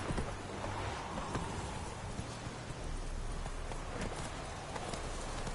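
Roach, the horse in The Witcher video game, gallops with rapid rhythmic hoofbeats in a steady driving pattern, fairly close and continuous for several seconds with no talk.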